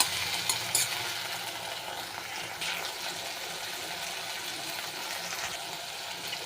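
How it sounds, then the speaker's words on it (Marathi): Chopped tomato frying in hot oil in a pan while being stirred, a faint steady sizzle with light scraping and occasional soft clinks. "टॅमॅटो पण चांगलं भाजून घ्यायचं"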